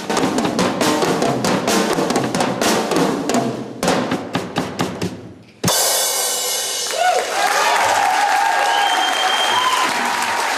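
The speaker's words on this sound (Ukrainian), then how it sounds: "Соло маленького барабанщика публіка завжди зустрічає оваціями." Audience ovation after a young drummer's solo, loud sustained crowd applause with rhythmic accented claps that stops abruptly, followed by a different scene with a voice and music.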